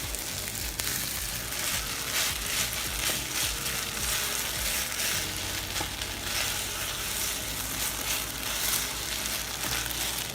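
Kimchi fried rice with ketchup sizzles steadily in a pan while being stirred, a constant close frying hiss with soft scraping under it.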